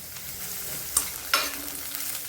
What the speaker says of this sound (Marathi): 1 मिनिट परतायचं फक्त हे आणि वाटून घ्यायचं